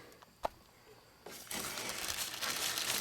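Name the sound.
crinkling a wrapped tag on a car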